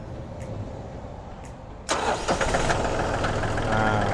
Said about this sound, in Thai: สตาร์ทติดง่ายครับ บิดทีเดียวก็ติดเลยครับ